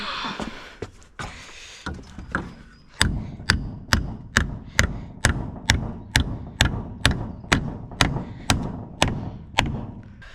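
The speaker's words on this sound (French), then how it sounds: "Le clou là, je vais le taper en vrai" A hammer drives a nail into a small wooden cladding board: about a dozen sharp, evenly spaced blows, close and loud, preceded by a few lighter irregular taps.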